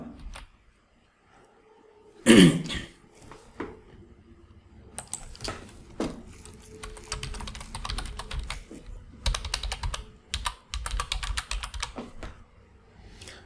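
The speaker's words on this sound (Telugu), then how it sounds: "సో నేను ఈ డీటెయిల్స్ని ఎంటర్ చేసి సబ్మిట్ మీద క్లిక్ చేస్తాను." Details are typed on a computer keyboard while filling in an online registration form, with uneven runs of close, crisp keystrokes, pauses between them, and one sharp louder clack early on.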